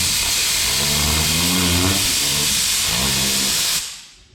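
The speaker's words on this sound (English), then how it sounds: "When you're setting your coilover, just your locking rings, easiest thing to do, get an air gun" A pneumatic air gun spins coilover suspension locking rings: a loud continuous hissing whine that rises and falls in pitch twice before the air cuts off and fades.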